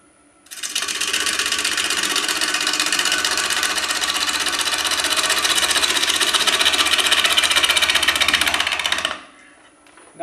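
A heavy STRATOS XL lathe roughs out a large maple bowl, giving a loud, steady, chattering whir of the gouge cutting the spinning wood for about nine seconds before it cuts off abruptly.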